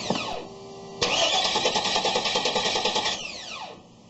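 A GMC/Chevy OBS truck engine cranks over loud and close for about two seconds, with a rapid, steady starter-motor chug and pulsing rhythm, then spins down and fades, with whining tones rising and falling before and after.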